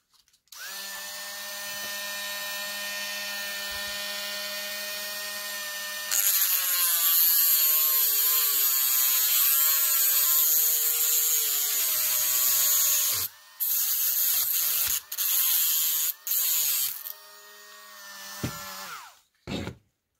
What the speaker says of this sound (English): I've decided to take off the axles because they are really, really rusted.